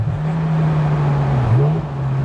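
A Ferrari 360 Spider (2001) engine holds a steady low drone throughout, dipping briefly and then rising again, loud and close like a car cruising at speed.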